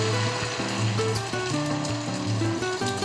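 Olive oil sizzling as it heats in a pan, a steady crackling fry heard alone under light background music, close and fairly loud.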